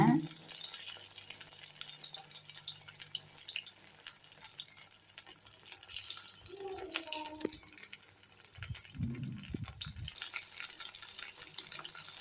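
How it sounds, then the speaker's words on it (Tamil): Slices of elephant foot yam fry in hot oil with a steady, faint hissing sizzle that runs throughout, with a few brief low murmurs partway through. "எண்ணெயில் போட்டு பொரிச்சு எடுக்கணும். ஒரு பக்கம் அப்படியே விட்டுருங்க, நல்லா வேகட்டும்."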